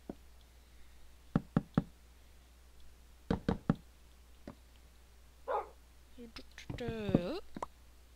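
A dog barks in Minecraft, short blocky yips and a few clicks and knocks spread out at low volume, with someone talking quietly between them.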